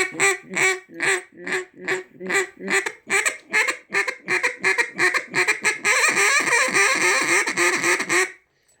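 A duck call blown in a rapid series of nasal, whiny quacks, close and loud, running together into a continuous raspy stretch near the end.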